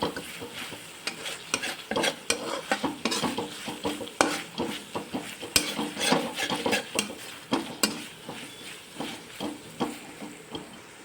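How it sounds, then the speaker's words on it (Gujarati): Chili powder, turmeric and other ingredients are stirred in a frying pan for leftover-roti hakka noodles, with steady scraping strokes and clatter of a spoon over a soft sizzle. "હવે આપણે બધું જ મિક્સ કરી દઈશું"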